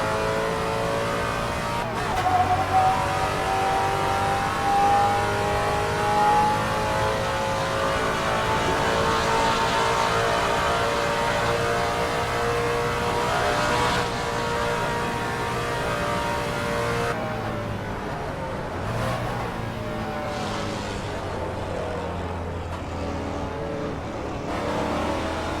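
A vintage Trans Am race car in Assetto Corsa accelerating hard, its engine climbing steadily through the gears in a loud, continuous, close roar with brief shift breaks.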